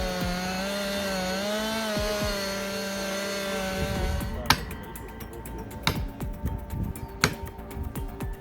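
A Husqvarna chainsaw with a 20-inch bar cuts through oak, its engine droning loudly and steadily, then easing off into sharp cracks and knocks of wood, with no talking.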